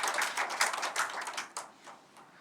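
A church congregation claps to welcome a speaker to the front, a quick crisp burst of many hands that fades out over about two seconds, with a few scattered claps at the end.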